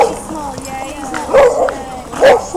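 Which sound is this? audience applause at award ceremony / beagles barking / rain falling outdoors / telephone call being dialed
beagles barking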